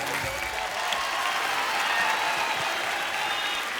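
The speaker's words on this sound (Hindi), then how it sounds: "जोरदार तालियां सिम्बा के लिए" Studio audience at a comedy show bursting into loud, dense, sustained applause, an even wall of clapping from many hands that holds steady throughout with no talking over it.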